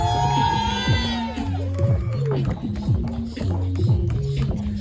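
A crowd at a backyard wrestling match cheers and shouts, with whoops and excited voices mixing with loud, choppy tonal sounds that rise and fall in steps.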